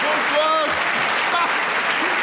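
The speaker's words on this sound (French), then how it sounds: "Est-ce que vous pouvez l'applaudir?" An audience at a Paris comedy show cheers and applauds loudly for the comedian Éric Antoine, with dense, close clapping and scattered shouts and whistles rising above it.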